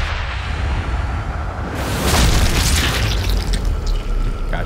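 A loud explosion bursts in the Sniper Elite 5 video game, a booming blast with a broad roar that swells suddenly and holds for several seconds after a brief quieter lead-in.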